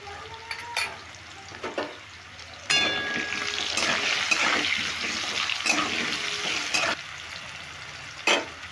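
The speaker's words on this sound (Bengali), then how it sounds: "অনেকটাই তেল ঢেলেছি, একসাথেই ভাজা হয়ে যাবে।" Potatoes with salt and turmeric frying in plenty of oil, giving a steady close sizzle that swells as more goes into the pan, with a few clinks and scrapes and no talk.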